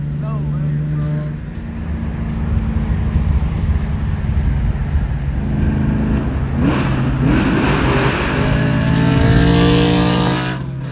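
A Nissan 350Z at a car meet revs hard and loud, its engine drone rising and falling as the throttle is blipped, close and continuous, with people talking over it.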